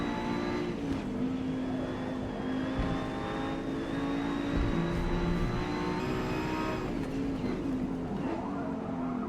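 Audi Quattro GTO race car engine in a Forza racing game endurance event, a loud, steady, close-up drone of a high-revving motor that holds its pitch with small shifts as it runs at speed, with no voices over it.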